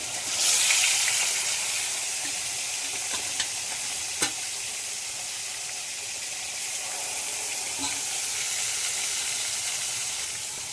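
Fish frying in a pan of hot oil in a home kitchen, a steady close hiss and sizzle throughout with occasional clinks and pops, brief louder crackle near the start.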